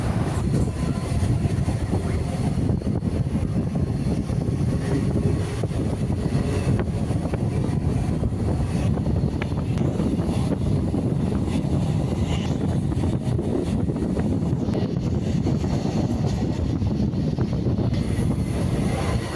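A local EMU electric train running between Tiruvallur and Ponneri in Tamil Nadu, heard from onboard as a loud, steady, continuous rumble and rattle of wheels on track, with no talk.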